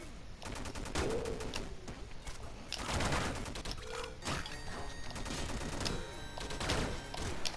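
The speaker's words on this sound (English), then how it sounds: "M is for my machine gun." Machine gun fire in the pixel-art game Downwell crackles in quick, repeated bursts of clicky, mechanical shots, steady and moderately loud throughout.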